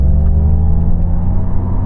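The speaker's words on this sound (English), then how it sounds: "We're going to see the pickup on this car to 70." An electric supercar accelerates hard from 40 to 70 mph, giving a loud, steady, close-up rising whir and rumble of motor and road noise with no talking.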